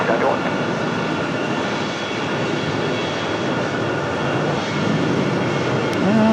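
A UPS cargo plane departs Raleigh-Durham International Airport at night, its jet engines producing a steady, loud broadband roar throughout, with faint voices underneath.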